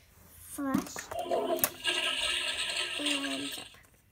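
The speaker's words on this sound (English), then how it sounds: "Flush." A toy potty plays an electronic flush sound effect: a swirling, splashy watery whoosh lasting a few seconds with tinkling tonal bits. A voice is heard briefly at the start.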